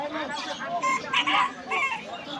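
Chickens cluck and squawk in a busy village poultry market in Badarganj, Bangladesh, the calls bursting out close and overlapping amid crowd noise and voices.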